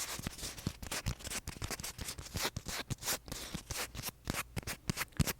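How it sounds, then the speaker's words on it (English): Dried slime waffle used as an ASMR trigger, giving close, dense brushy scratching with quick irregular crackly strokes and light taps throughout, no voices. "kind of brushy, scratchy sound, I think"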